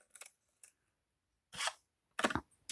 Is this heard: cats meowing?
no